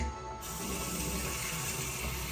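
Steady hiss of hot tap water running while hands are scrubbed with soap, close and constant with no talking.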